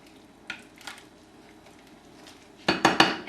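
A spoon stirs a pot of soaked lentils, with a couple of light scrapes early on, then a louder burst of clattering metal stirs against the pot near the end.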